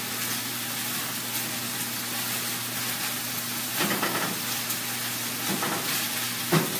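Food sizzles and fries steadily in a pan on the stove while spaghetti squash lasagna is being made, with a constant close crackling hiss, a low appliance hum beneath, and a few brief stirring scrapes near the end.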